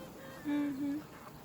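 A honeybee queen pipes inside the hive: one faint, steady tone about half a second long, then a second short note, over a quiet hive hum.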